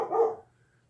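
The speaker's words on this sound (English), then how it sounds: "what are you barking at, buddy?" A single short dog bark, fairly close and alone, fading quickly into quiet room tone.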